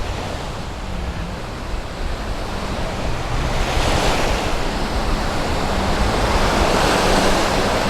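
Sea waves roll onto Jomtien Beach in Pattaya, Thailand, a loud continuous surf roar that swells gradually, mixed with wind rumbling on the microphone.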